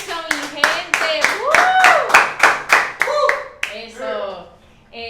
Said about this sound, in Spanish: Viene un aplauso, mi gente